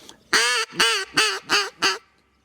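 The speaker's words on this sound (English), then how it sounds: "So it's just hens that quack and talk and that." A mallard hen duck quacks five times in a steady series, loud, close and raspy, each call short and evenly spaced.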